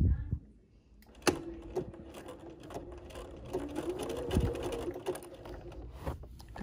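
A sewing machine runs steadily while stitching the last side of a fabric storage box, a close low hum with sharp clicks at the start and scattered knocks, and a voice briefly audible.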